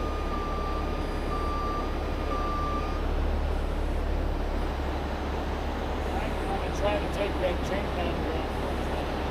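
Warning beeps from a heavy machine as it turns while moving rocks, a steady tonal beep repeating over loud constant engine rumble, with people talking nearby.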